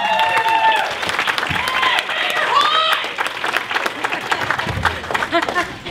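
A comedy club audience applauds comedian Linda Fiero, a sustained, loud wash of clapping and cheering with a voice talking over it, fading slightly toward the end.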